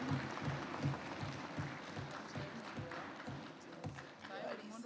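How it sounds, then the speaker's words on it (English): Parliamentary seminar audience clapping in a steady, moderate round of applause filling the hall from start to end, with some voices underneath. "She really deserves a standing ovation. A round of applause."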